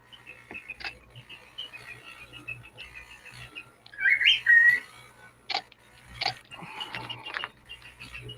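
A pet bird gives a few short whistled chirps and tweets at moderate distance amid quiet room noise, with a louder burst of twittering midway.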